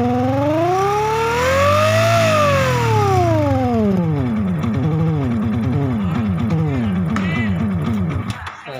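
Motorcycle soundbuster speaker wailing a loud siren, first a slow rising and falling sweep, then a rapid series of short warbling yelps, close and continuous over a low engine hum.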